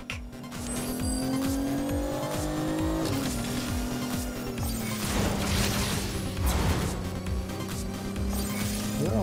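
A car in the video game Agents of Mayhem speeds along with a loud, steady engine drone that dips in pitch partway through, joined by squealing tires and scraping, crunching impacts.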